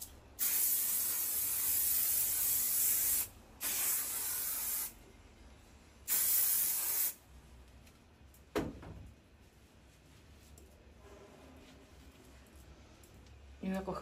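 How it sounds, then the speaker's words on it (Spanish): Hairspray lacquer hissing from an aerosol can onto hair being styled back, in two long bursts and a shorter third, loud and close, then quiet with faint handling sounds. "Vamos a echar laca bastante."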